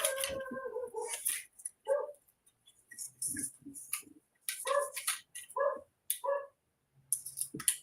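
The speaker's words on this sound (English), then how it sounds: "There's a neighborhood dog somewhere outside barking" A neighborhood dog barks somewhere outside, a series of short, distant barks at irregular intervals, faint in the background.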